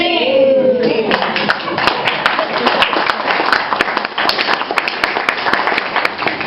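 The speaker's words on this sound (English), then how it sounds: "One more round of applause." Outdoor audience applause at Quail Park in Lynnwood, Washington: a loud, sustained patter of many hands clapping, with a voice speaking briefly at the very start before the clapping takes over.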